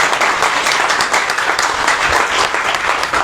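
A church congregation claps together in worship, loud and sustained, a thick continuous wash of many hands without pause and no talking above it.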